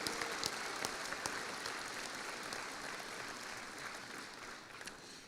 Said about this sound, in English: can you please give your parents one big round of applause and all your family and friends?